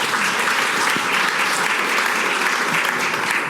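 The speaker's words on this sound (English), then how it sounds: "I remember you tried to do this last year too, applaud after every round" A live audience at a recorded show bursts into loud, sustained applause that holds at an even level from start to finish, with no voices over it.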